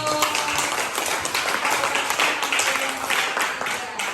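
Classroom audience applauding a group presentation during a teaching practice session, a steady wash of clapping from many hands lasting throughout.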